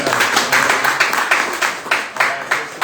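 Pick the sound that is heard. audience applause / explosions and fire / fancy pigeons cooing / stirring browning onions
audience applause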